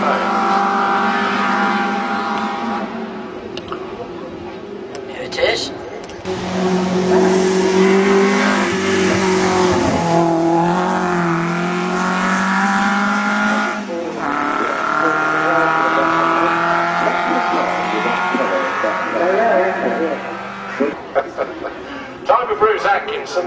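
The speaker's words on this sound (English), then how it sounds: "Another Alfa Romeo." Classic Alfa Romeo saloon or sports car, pre-1975, climbing the Shelsley Walsh hill; a steady engine drone with gear changes rising and falling over the whole stretch while a commentator talks over it.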